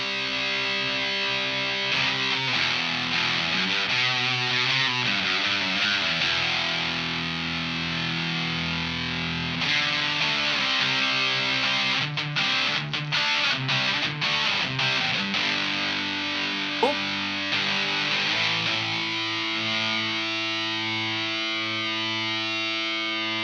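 Electric guitar through a Seeker Lineage MK I fuzz pedal, thick sustained distorted chords and riffs ringing continuously at steady volume, with a few choppy staccato strums partway through and held notes at the end, no voices.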